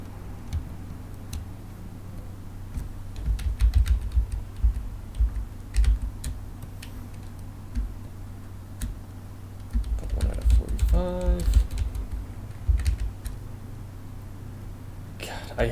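Computer keyboard typing, scattered clicks and short bursts of keystrokes at close range beneath a steady electrical hum, with a person talking quietly over parts of it.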